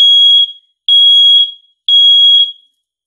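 Nest Protect smoke and carbon monoxide alarm sounding its smoke test: three loud, piercing high-pitched beeps, each lasting about half a second, with short even gaps between them and no talk.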